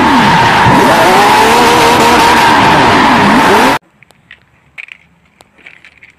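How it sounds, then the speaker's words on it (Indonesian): A green race car roars loudly with screeching tires and a sweeping, revving engine for nearly four seconds, then cuts abruptly to near silence with a few faint knocks. "ini mobil balap warna hijau"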